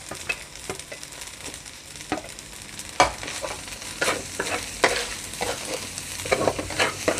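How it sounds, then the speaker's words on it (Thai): Glass noodles stir-fried with chicken, cabbage, tomato and carrot, a soft continuous sizzle broken by repeated scraping and clacking of the spatula in the pan, close and without talk. "ผัดให้เข้ากันก่อนนะคะ"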